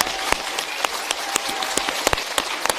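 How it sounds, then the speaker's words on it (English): Audience applause for Lerato at an Absa business event: close, fairly loud scattered clapping with sharp individual claps standing out over a softer bed of hands, no talking. "let's give Lerato a big round of applause"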